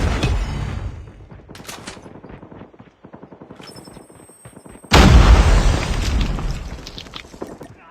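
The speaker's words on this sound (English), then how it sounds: "Friendly Predator missile inbound." A Predator missile strike detonates in Call of Duty Mobile, with rapid gunfire rattling first, then a sudden loud, close blast that rolls into a sustained roar and slowly fades.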